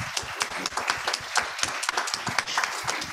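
A round of applause welcoming the opening keynote speaker at a conference on human enhancement and brain-computer interfaces, sparse, crisp individual claps from a few people in an uneven rhythm, close and moderately loud.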